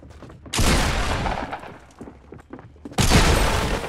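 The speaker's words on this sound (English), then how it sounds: "Dude, this blue pump is just too good." Shotgun blasts from a blue pump shotgun in the video game Fortnite, two loud booming shots about two and a half seconds apart, with quieter gunfire and game noise between them.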